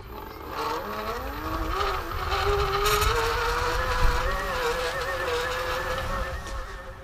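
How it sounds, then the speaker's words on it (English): An Energie Cycles Excursion 2.0 electric bike's motor is run at full throttle, giving a steady, loud whine that climbs in pitch as it speeds up, continuous and close, with wind and rolling noise underneath. "I'm just gonna go ahead and gun it."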